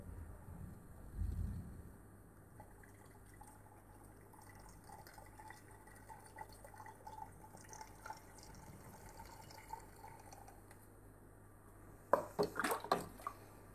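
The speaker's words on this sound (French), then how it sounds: "on entend un bon petit bruit d'émulsion" Cold water gurgles and bubbles softly inside an ARKA MYSCAPE-CO2 aquarium system, a faint, continuous liquid trickle with light drips, ending in a short flurry of louder splashy knocks.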